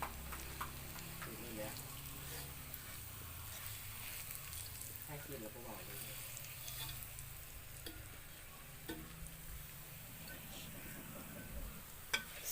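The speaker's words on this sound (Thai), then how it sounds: "ทอดเห็ดเข็ม" Enoki mushrooms frying in hot oil, a steady close sizzle and crackle running throughout, with occasional stirring clinks and people talking over it.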